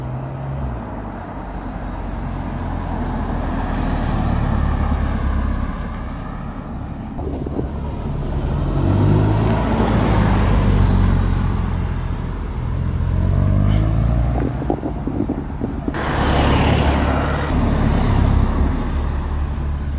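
An Audi with a TFSI engine drives past on a road, its rumble swelling and fading in passing waves over steady traffic-like background noise.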